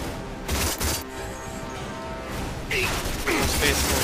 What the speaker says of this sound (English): Let's give the assault rifle a try.